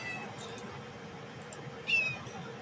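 A cat meows once, briefly and fairly close, in a workshop during a laser engraving session on a metal axe, with a steady machine hum running underneath.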